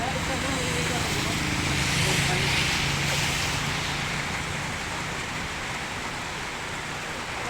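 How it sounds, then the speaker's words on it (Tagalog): Steady rain hisses continuously on a surface, a dense wash of noise with a low rumble beneath it. "hindi talaga tumitigil yung ulan"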